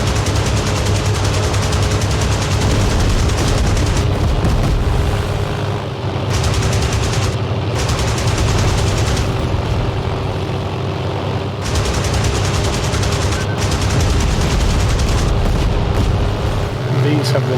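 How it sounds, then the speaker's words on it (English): A WWII aircraft's four long-barrel Hispano Mark II 20mm autocannons firing in IL-2, sustained loud rapid bursts with brief pauses between them, heavy low rumble throughout. "Four cannon, total 570 rounds. A lot of firepower here."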